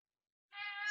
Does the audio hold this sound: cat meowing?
yes